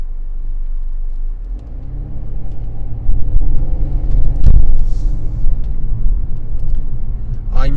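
A Mercedes-Benz E300 Cabriolet on a test drive, its engine and road rumble steady and low, building after a few seconds, with a short thump midway and a brief tonal squeak at the end.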